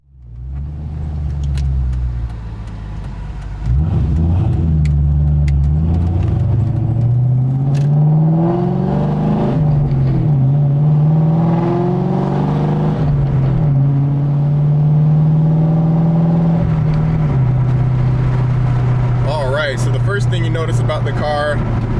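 A 2002 Ford Mustang GT V8 rumbles from inside the cabin as it pulls away and accelerates, with a deep, steady engine drone rising and falling through gear changes for about twenty seconds.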